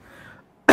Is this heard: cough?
yes